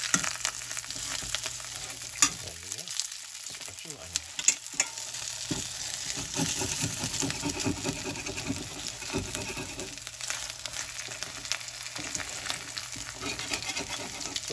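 A smoked pork chop sears in a hot pan, giving a continuous close crackling sizzle with occasional spatula scrapes and no speech.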